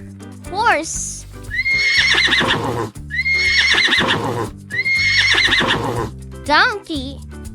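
A horse neighs in two loud, quavering whinnies over a soft musical bed, with brief spoken bits at the start and end.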